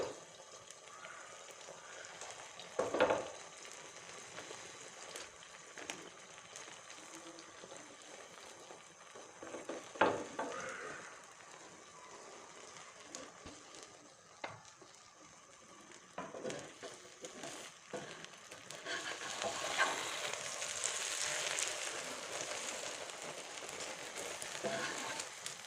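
Egg frying on a tawa griddle, a faint steady sizzle with occasional scraping and tapping as it is spread, growing louder toward the end.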